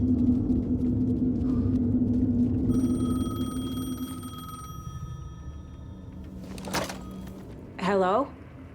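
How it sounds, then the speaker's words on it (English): Payphone ringing in Alan Wake 2: a steady electronic bell tone rings for a couple of seconds over low ambient rumble, followed by a brief clatter and a rising, warbling sweep. "The payphone was ringing."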